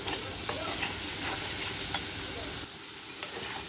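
Dried fish (shutki) sizzles and fries in a pan for a tempering, with steady close crackling and scraping stirring strokes, the frying briefly quieter near the end.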